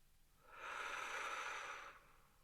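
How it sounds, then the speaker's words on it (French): One long, deep breath is released slowly through the mouth during a relaxation exercise, a soft steady rush of air that swells and fades over about a second and a half, close and quiet, with no talking. "Prenez une profonde inspiration en gonflant le ventre et la poitrine, puis soufflez en les laissant redescendre."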